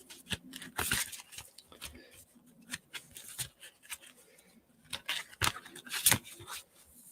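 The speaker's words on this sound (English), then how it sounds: "Let's give my cards a good shuffle." Tarot cards shuffled by hand at close range make quiet, irregular bursts of crisp flicking and snapping, separated by short pauses.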